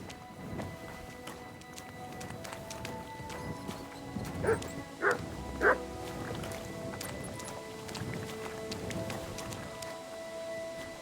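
A dog in Kingdom Come: Deliverance II barks a few times in quick succession mid-distance, over a constant ambient bed with faint hoofbeats and rain-like hiss.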